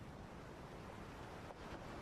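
Steady rushing water in the Quantum Break video game, a dense continuous roar of surf-like flow filling the scene without pause.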